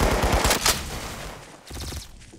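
Rapid bursts of gunfire in Roblox Arsenal, a quick automatic volley up front, a brief lull, then another rattling burst, sharp and fairly close.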